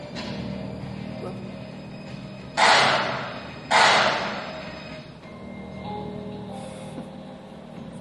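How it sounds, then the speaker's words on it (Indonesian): Two loud, sharp gunshots ring out about a second apart during a stage play, each with a short fading tail over a low background hum. "Suara tembakan."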